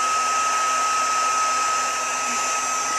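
Heat tool steadily blowing hot air onto tulle for a flower pin, a loud, even whirring hiss with a faint whine that runs unbroken and close throughout, with no talk.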